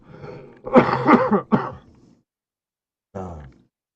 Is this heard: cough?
yes